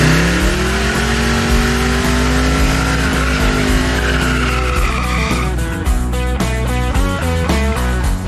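Hot rod doing a burnout, its engine revving hard while the tires squeal and skid continuously, loud and close, with the pitch rising and then breaking into rough rhythmic chatter.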